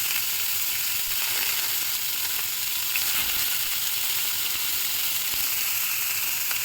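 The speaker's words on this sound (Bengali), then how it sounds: "দিয়ে এগুলো সব একসঙ্গে একটু ফ্রাই করব, বেশ গোল্ডেন ব্রাউন করে ফ্রাই করব।" Garlic, onion and dried chilies fry in hot oil with a loud, dense, continuous sizzle and hiss that stays steady throughout, close up and alone.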